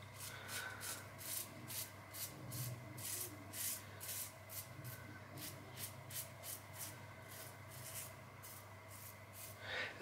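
A Homelike Colibri safety razor scrapes across stubble in a steady series of close, raspy strokes, each a short gritty rasp repeating in an even rhythm for about ten seconds, with no talking.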